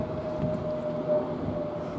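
A Class 390 electric train, unit 390-020, running from London Euston to Liverpool Lime Street, passes through Watford Junction on the West Coast Main Line, giving a steady close rumble with a faint sustained whine and no voices.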